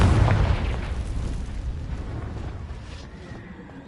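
A Confringo spell explosion in the video game Hogwarts Legacy bursts loudly at the start, then a deep rumbling decay fades slowly over several seconds, with no talking.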